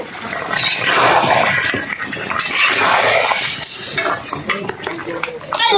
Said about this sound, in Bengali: পোলট্রির মাংস রান্না হচ্ছে